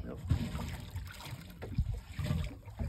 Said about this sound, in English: The slapping of the waves.